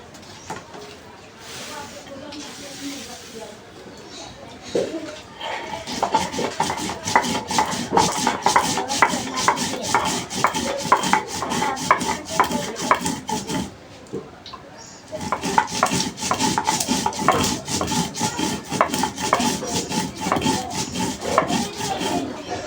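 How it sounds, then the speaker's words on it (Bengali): Cumin, cardamom pods and cinnamon-like garam masala bark being ground together on a stone grinder: steady, rhythmic rasping and scraping strokes up close, quieter at first, pausing briefly midway, then resuming strongly. "এবার মশলাটা বেটে নেব যে এখানে জিরা এলাচ ফল আর গরম মশলার ছাল আছে এগুলো আমি একসাথে বেটে নেবো"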